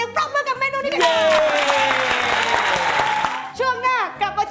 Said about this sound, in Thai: ขอเสียงปรบมือกับเมนูนี้กัน